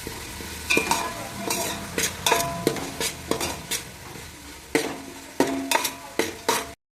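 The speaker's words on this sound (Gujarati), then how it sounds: "ટમેટાને પણ આપણે થોડીક વાર હલાવી અને સરસ રીતે તળવા દઈશું." A spoon scrapes and clanks against a pan in irregular strokes while tomatoes sizzle steadily frying underneath, close and clear.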